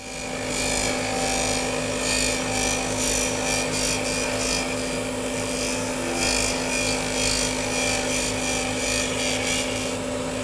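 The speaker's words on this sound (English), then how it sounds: "So you can see how delicate a cut the negative rake scraper takes." Negative rake carbide scraper taking a delicate cut on wood spinning on a lathe, a steady close mechanical hum with a fine scraping texture running continuously without talk.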